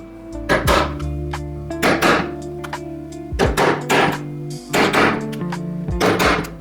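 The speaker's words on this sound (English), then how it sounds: "Then I can go back to my 8mm hole punch, and we can punch all of the remaining holes" An 8mm hole punch is struck through leather with a mallet, five loud, sharp thuds spaced roughly a second or more apart, each followed by a ringing tail.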